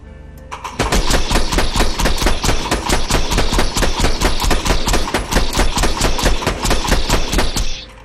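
Rapid, loud automatic gunfire from a Gunzerker build in the video game Borderlands 2 runs almost unbroken for about seven seconds, a steady high-rate rattle of shots with no talking.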